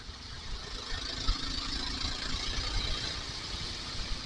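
A Kawasaki KLR motorcycle climbing a steep hill, its engine a steady low drone under heavy wind rush, fairly quiet and continuous throughout.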